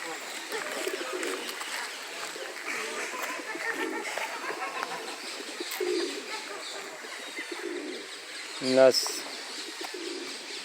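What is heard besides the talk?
birds cooing in a bird park, Düsseldorf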